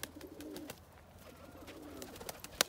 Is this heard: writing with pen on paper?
no